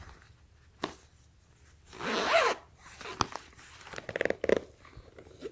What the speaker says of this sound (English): It's a zipper hidden in there.